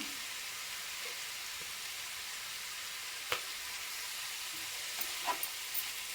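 Onions sautéing in a pan give a steady, soft frying sizzle throughout, with a few faint clinks and scrapes of stirring near the end.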